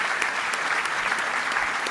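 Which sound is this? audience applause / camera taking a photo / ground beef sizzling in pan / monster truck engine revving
audience applause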